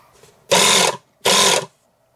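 An RV fresh-water pump pressurizing the system after a valve is turned on, heard as two short loud mechanical buzzing runs with a pause between, over a faint background hum.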